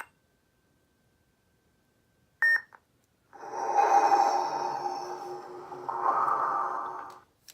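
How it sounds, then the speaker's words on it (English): A custom Luke Skywalker Return of the Jedi style lightsaber with its activation button held down gives a brief electronic chirp, followed by a longer, breathy hum that swells and fades, quiet and close. "push and hold the activation button until you hear 2 beeps"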